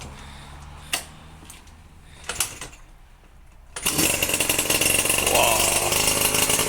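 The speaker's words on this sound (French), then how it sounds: "En plus, ça démarre au kick." A Suzuki RMX motorcycle engine is kick-started with the choke on: a few sharp kick thumps and clatters, then the two-stroke engine catches and runs loud and continuous, revving raspily close by.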